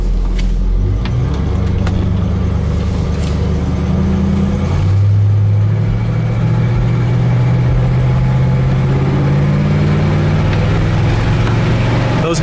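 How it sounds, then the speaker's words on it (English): A 1968 Oldsmobile Cutlass S with a two-barrel 350 Rocket V8 drives along, its engine note loud and close, rising and settling as the car picks up speed, with no talk over it. "Like I said, 350 Rocket 2 barrel, but a lot of power and just a great running engine still."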